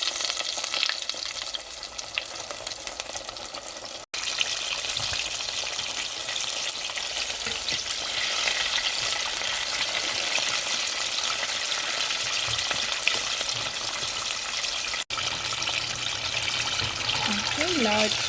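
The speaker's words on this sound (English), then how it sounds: "Now we are going to fry them. Make sure your oil is pretty hot before putting it in there." Breaded chicken wings deep frying in hot oil give a steady, loud, dense sizzle and crackle that runs unbroken for the whole stretch, with a couple of brief dropouts and a voice speaking faintly underneath.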